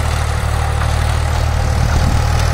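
A Powertrac 439 Euro tractor's diesel engine idles steadily close by, a low, even rumble with a constant throb and no other sounds over it.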